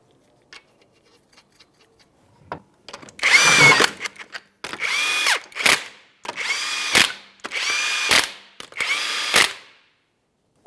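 A power tool drives 21mm lug nuts onto a 2005-2010 Chrysler 300 rear wheel in a series of about five short whirring bursts separated by brief pauses, loud and close.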